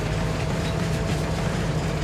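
A freight train running in the Farming Simulator 22 video game, heard as a steady, loud low rumble with a sustained engine hum and faint rail clatter, continuous and without talk.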